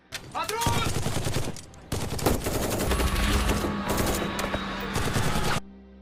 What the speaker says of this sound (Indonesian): Setibanya di bandara, mereka langsung menembaki Capo yang baru saja turun dari mobilnya.